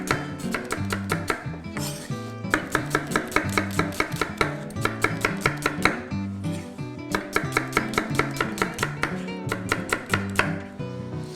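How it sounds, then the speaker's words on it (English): A knife slices halved onions on a cutting board in fast, even strokes, close and loud. The cutting comes in long runs broken by two brief pauses, with no voices. "I actually slice my onions"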